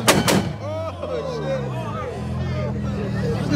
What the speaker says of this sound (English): let's go and listen to some loud-ass explosions